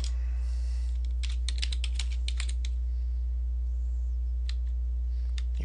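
Typing a business listing on a computer keyboard: bursts of close, quick key clicks in an uneven rhythm, pausing and resuming, over a steady low electrical hum.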